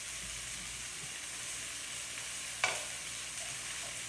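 Chicken pieces for crispy chili chicken fry in a pan after being flipped, giving a faint, even sizzle throughout with one sharp clack partway through and no speech.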